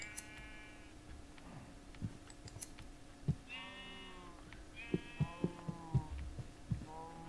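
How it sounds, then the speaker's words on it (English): Sheep in the Minecraft video game bleat several times in a row, faint and wavering, with soft clicks and thumps from gameplay scattered between the calls. "I thought that was a sheep out there."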